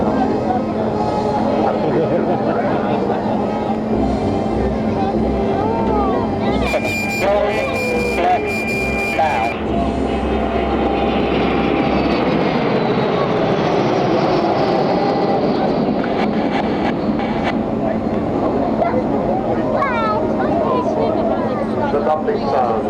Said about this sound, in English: the lovely sound of full Rolls-Royce Bristol Olympus engines accompanied by two little Orchids engines in the nose